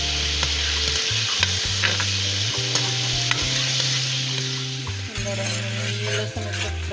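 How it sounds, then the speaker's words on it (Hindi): Garlic sizzles and fries in a pan while a spoon stirs and scrapes against the metal, a steady close crackle broken by repeated knocks and scraping strokes throughout. "ये लहसुन फ्राई हो गया"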